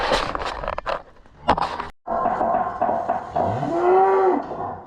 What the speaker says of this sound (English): this is an older cow.